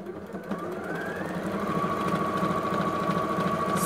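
A sewing machine runs a straight stitch through cotton fat-quarter fabric for a sunglasses case, a loud, steady, close mechanical whir with rapid needle rhythm that holds without pause.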